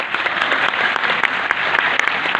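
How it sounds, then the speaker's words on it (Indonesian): A hall full of attending students claps together at a national Indonesian youth forum, a loud, thick wash of applause with a few sharper individual claps standing out. "Boleh tepuk tangan teman-teman pelajar yang hadir"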